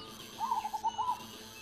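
A zebra dove gives a soft, rhythmic cooing of several short notes in quick succession, faint against a quiet background.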